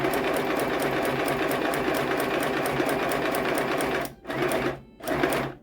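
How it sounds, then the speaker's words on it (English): A sewing machine stitching a pillow made from dollar-store drying mats, a fast, steady mechanical whir close up that pauses briefly twice near the end before resuming. "I'll come back when I have finished sewing"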